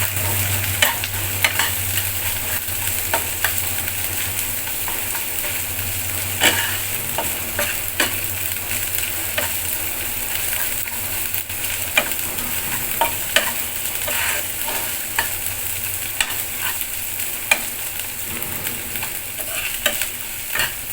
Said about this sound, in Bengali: আদা আর রসুনের কাঁচা গন্ধটা চলে যাক, একটু ভাজি